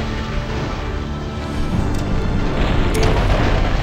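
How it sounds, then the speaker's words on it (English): Enemy mech exploding in the MechCommander video game, a rumbling booming blast that swells in loudness over a few seconds amid dense game noise, with no voices. "Enemy mech destroyed."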